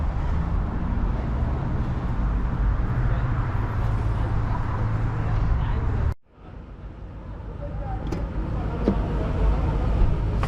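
A big Ford Expedition SUV on a test drive gives a steady, loud interior road and engine rumble, broken by a sudden near-silent gap before the drone returns slightly softer with faint clicks.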